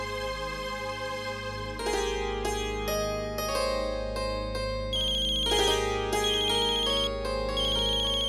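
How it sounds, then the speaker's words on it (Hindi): A mobile phone plays a melodic ringtone of bright synth notes over a low sustained backing, ringing continuously and clearly with no talking. "लो, आ गया तुम्हारी तमन्ना का फोन।"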